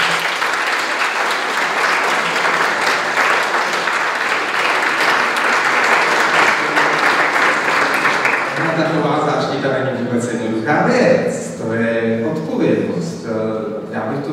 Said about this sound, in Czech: že by si zasloužili velký potlesk.